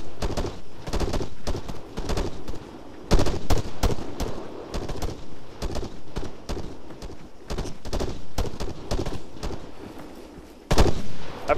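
Gunfire in the military shooter game Arma 3 during a multiplayer battle: repeated sharp bursts and single loud shots cracking close by at irregular intervals across the whole stretch, with no talking.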